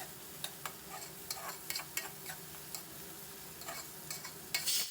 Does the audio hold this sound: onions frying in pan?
yes